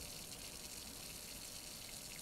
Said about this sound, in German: Warum war auf einmal hier einfach das Wasser an?